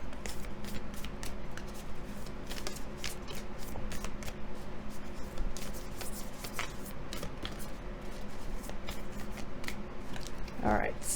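Oracle cards are shuffled continuously up close, a quiet rapid riffling and flicking that runs throughout.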